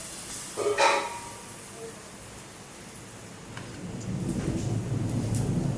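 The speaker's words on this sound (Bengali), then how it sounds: "তেলটা গরম হয়ে গেছে। এবারে এতে আমি 2 হাতা ব্যাটার দিয়ে দেবো।" Batter poured into hot oil for a healthy tiffin snack starts a rising sizzle, a brief pouring splash first and then a steady crackling fry that grows louder toward the end, close by with no talk.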